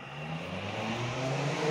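A Balmer welding machine starts up in a truck-repair shop working on a Scania cab, a steady motor hum with tonal whine building slightly louder, continuous and alone, with no voices.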